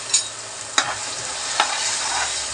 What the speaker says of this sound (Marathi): चांगली परतून घेऊया सुकी होईपर्यंत.